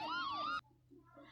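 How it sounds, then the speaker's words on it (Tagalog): Ambulance siren sounding as a sweeping wail that cuts off abruptly after half a second, followed by quiet low background sounds; clear and close, no talk. "Ang pagtingog sa ambulansya kay nagpasabot nga naay pasyente na kinahanglan dad-on sa ospital."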